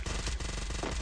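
A MAC-10 submachine gun fires a rapid, loud burst of closely spaced shots in Counter-Strike, the rounds rattling out in quick succession for about a second.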